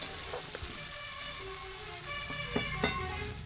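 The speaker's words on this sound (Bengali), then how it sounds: "সবজিগুলো আমি খানিকক্ষণ ধরে ভেজে নিয়েছি।" Vegetables frying in a pan over a wood-fired clay stove, a continuous close crackling sizzle with a few sharp pops and light scrapes, moderately loud and without speech.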